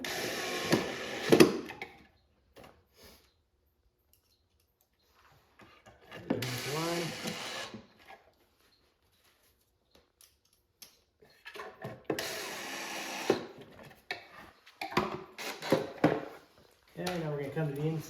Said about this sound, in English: Install these pocket screws.